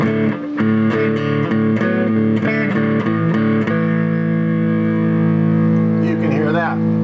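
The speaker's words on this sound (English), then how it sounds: "if I engage the distortion," Electric guitar played through a distortion effect, with a run of picked notes giving way to a thick sustained chord that rings out and warbles at the end.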